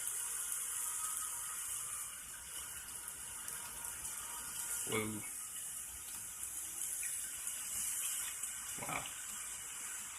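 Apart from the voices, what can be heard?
waterfall water rushing in a laptop game demo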